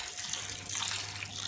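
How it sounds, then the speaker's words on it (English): Boiling water poured from a kettle onto grey slate pieces being washed for a solar garden fountain, a continuous, bright splashing pour heard up close and alone, steady throughout. "I'm going to wash another batch of grey slate by pouring some boiling water onto the slate"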